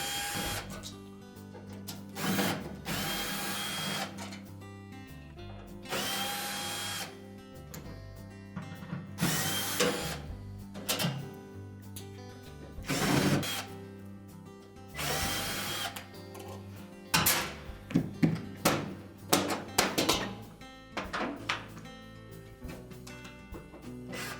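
A drill backs out the back panel screws of a Whirlpool washer, giving repeated short whirring bursts with pauses and clatter between them. The bursts are close and moderately loud.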